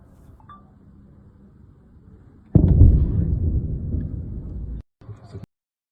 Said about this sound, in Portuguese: Dá para ouvir uma pequena explosão e um barulho